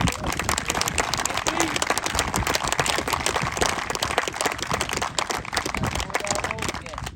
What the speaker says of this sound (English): How about a round of applause for Pete?